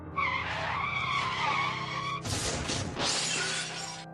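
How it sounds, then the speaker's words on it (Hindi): A car crash: tyres skid and squeal loudly, then glass shatters and debris breaks apart in a sharp burst near the end, with no talking. "वो किसी गाड़ी के एक्सीडेंट की आवाज थी।"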